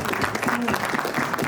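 Audience applause at a live talk event, a steady wash of clapping running through the whole moment, with a voice speaking over it.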